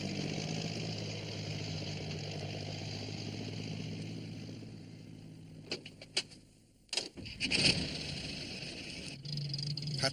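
A tractor engine drones steadily at idle on a foggy road, a low even hum that cuts out partway through before a few clunks and a burst of mechanical noise, then the engine tone returns.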